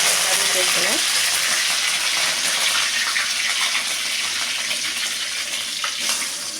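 Fenugreek seeds, dried chili and curry leaves crackle and sizzle loudly in hot oil in a pan, a steady frying hiss with occasional stirring, no talking.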